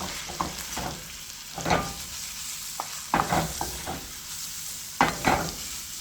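Ackee and saltfish seasoned with black pepper sizzle in a pan while being stirred, with a constant frying hiss broken by several distinct scraping stir strokes, close up and with no talk.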